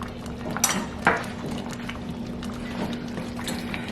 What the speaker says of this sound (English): So after you add your shrimp, you're just gonna stir it in